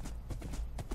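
Horse hooves clip-clop in Minecraft, six or seven quick, even thuds in a steady rhythm, close but fairly soft.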